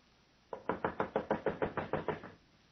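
A fast, even run of about a dozen loud knocks on a fortune-teller's wooden door, in an old-time radio drama, with close, hard raps and nothing else heard.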